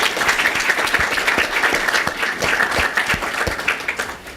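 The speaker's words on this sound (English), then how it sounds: "Can we have a round of applause for our partners and hosts?" Steady audience applause at a university higher-education forum hosted in a Los Angeles Times space, dense clapping sustained throughout before tapering slightly at the end.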